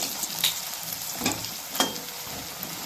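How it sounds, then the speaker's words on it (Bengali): Close, steady sizzle of large fish belly pieces frying in hot oil, with a few sharp crackles and pops rising above the continuous hiss. "বড় পেটি মাছ ভাজা হচ্ছে"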